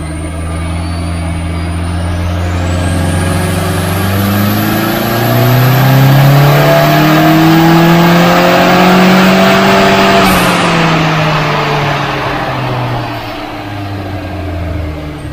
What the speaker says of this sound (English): So I've filled those points in and I'm ready for a power run.